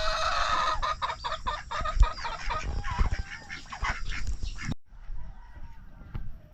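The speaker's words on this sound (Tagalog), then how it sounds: "Para mag-iitlog na rin yung isang manok. Nakurukutok na eh." Hens cluck repeatedly in quick, rhythmic bursts, close and fairly loud, amid chicken chatter that fades toward a quieter end.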